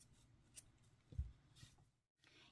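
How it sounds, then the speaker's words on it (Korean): Scissors snip through yarn after a crocheted daisy is finished, giving a single short crisp cut amid quiet handling noise, brief and close. "실 잘라주세요"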